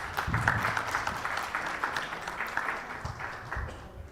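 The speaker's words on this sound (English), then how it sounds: "Please, a big round of applause for Mr." Applause at a fintech forum for a speaker being called to the stage, a sustained round of clapping from the audience at moderate level that tapers slightly toward the end.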